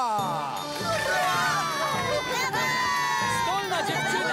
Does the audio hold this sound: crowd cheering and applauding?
yes